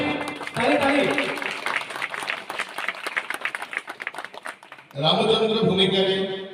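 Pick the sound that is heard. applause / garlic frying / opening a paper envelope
applause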